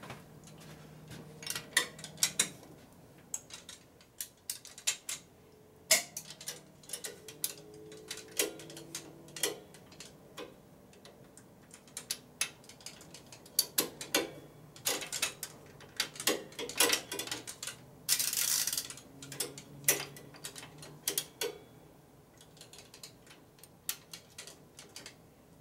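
Metallic clicks and ratcheting ticks of a double box wrench tightening a bolt on a 1965 Harley panhead 74ci FLH engine, scattered irregular taps and clinks close by in a quiet workshop.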